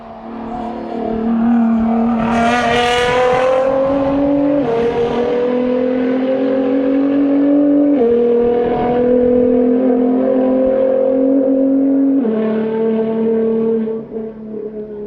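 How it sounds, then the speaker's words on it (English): A GTR race car engine at a track roars loud and close, its pitch climbing repeatedly and dropping at each gear change, with no voices over it. "here is Mark in the GTR"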